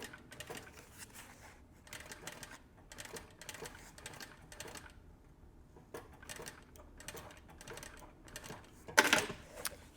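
A sewing machine runs in short bursts, stitching forward and backward at the start of a seam to lock it in, with brief pauses between runs and a louder clunk near the end.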